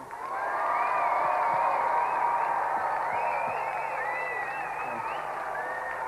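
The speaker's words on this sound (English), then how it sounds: "Round of applause for Simon." A studio audience applauds steadily on a Gamesmaster TV show, a dense patter of clapping that rises quickly and holds for several seconds, with faint cheering mixed in.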